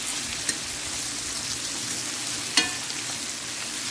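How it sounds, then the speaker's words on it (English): Meatballs fry in a pan with a steady, close hiss of sizzling fat, broken by two sharp clicks near the start and middle; no one speaks. "And my meatball is frying up."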